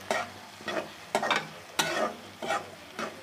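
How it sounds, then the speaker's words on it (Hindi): Finely chopped spring onion and green chillies frying in a pan, heard as a close sizzle with about six sharp stirring scrapes spaced through, no voices. "एक से दो मिनट मज़ीद इसको करेंगे हम फ्राई"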